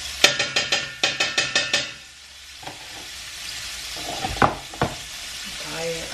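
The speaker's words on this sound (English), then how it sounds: "I'm scraping the butter, April." Butter being scraped around a cooking pan: a quick run of sharp rhythmic scrapes, a pause, then a few scattered scrapes and faint sizzling up close.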